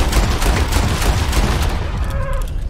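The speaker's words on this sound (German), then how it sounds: "nehmen wir unseren OP-Revolver und verpassen ihm mal ein paar Löcher" Rapid revolver fire in Red Dead Redemption 2, aimed at a fleeing legendary bighorn ram: a dense, loud burst of overlapping shots, then a brief ringing tail.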